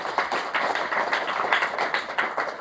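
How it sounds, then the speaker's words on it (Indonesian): A church congregation claps together during a worship service, a dense, steady patter of many hands sustained throughout at a fairly close, full level. "Beri tepuk tangan terbaik buat Tuhan"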